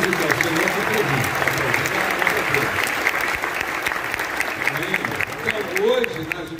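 Sustained, dense applause from a church congregation fills the space at a steady, loud level throughout, with a voice briefly rising above the clapping.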